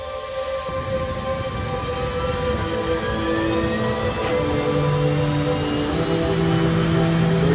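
An aircraft powers up for takeoff from the runway at Mojave, a loud steady engine roar with rising whining tones that builds gradually, heard from close by without talk.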